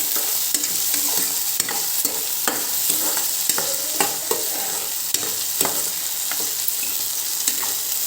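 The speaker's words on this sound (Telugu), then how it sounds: "దీంట్లోనే ఫ్రై అయిపోతాము. తర్వాత వచ్చేసి కరివేపాకు కూడా వేసేస్తున్నాను." Curry leaves sizzle and crackle in hot oil in a pan for a capsicum curry, with a steady bright frying hiss and regular stirring scrapes and clicks throughout, close and fairly loud, with no talking.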